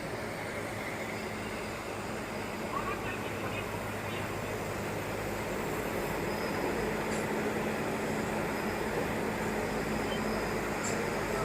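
A Nilgiri mountain railway steam engine train heading toward Ooty, heard from on board as a steady, even rumble and rolling hum that holds without break, with no distinct puffs standing out.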